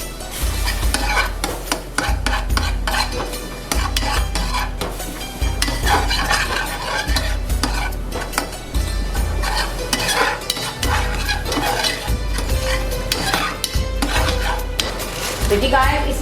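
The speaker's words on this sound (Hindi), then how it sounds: "ये देखते हैं अब इसे अच्छी तरह हम मिक्स करेंगे ताकि इसकी गुठलियाँ ना बने।" A milk and cream mixture stirred in a pan for a homemade sweet dish, with loud, continuous spoon scraping and clinking against metal and a low rhythmic thumping beneath, no voices.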